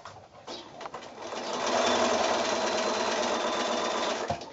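Sewing machine stitching a quilt block seam, a quiet start building into a steady rapid mechanical whir that runs evenly, close, then stops.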